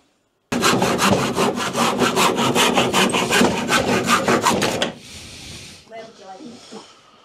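A hand saw trimming wood while modifying campervan lockers, with loud, rhythmic back-and-forth strokes heard up close for several seconds, then stopping, followed by faint rustling.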